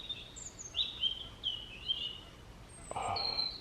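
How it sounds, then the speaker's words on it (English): A bird calls from a tree in woodland, a few thin, high whistled notes repeated at intervals and followed by a brief sharper chirp, moderately near over quiet background. "There's a bird up there now."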